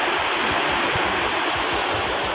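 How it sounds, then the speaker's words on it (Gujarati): A river flowing beside a road fills the scene with a steady, close rush of water, broadband and continuous without pauses. "કેવો અવાજ આવે છે પાણીનો"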